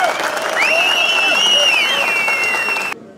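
A crowd at a mountain-region association gathering in Turkey applauds warmly, with continuous clapping overlaid by rising and falling whistles or voices, ending abruptly.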